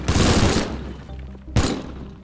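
A pipe collapses and breaks apart in the Teardown video game: a loud crashing burst of debris fades into settling rumble, then a second sharp impact follows about a second later and trails off.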